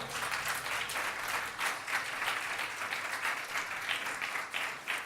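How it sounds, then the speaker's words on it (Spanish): A church congregation applauds during a sermon, giving a fairly quiet but steady spread of many hands clapping that holds evenly for several seconds. "Denle un aplauso al Señor, aleluya."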